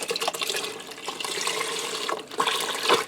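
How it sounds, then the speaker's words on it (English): Beef broth pours into a pressure cooker in a steady splashing stream that lasts the whole moment, close and fairly loud, with no talking. "I'm going to add the rest of that beef broth in"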